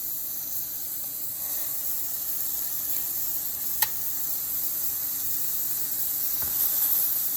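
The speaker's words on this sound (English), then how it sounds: "So we're gonna add in our burgers now." Smash burger patties hit a hot pan and sizzle with a steady, fairly quiet hiss and a faint click, no voices.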